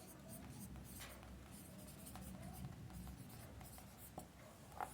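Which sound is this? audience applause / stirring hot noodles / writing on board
writing on board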